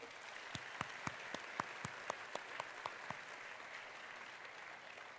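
An audience at a university convocation applauds in a faint, distant, even patter, with a few sharper, louder claps standing out near the start before it settles.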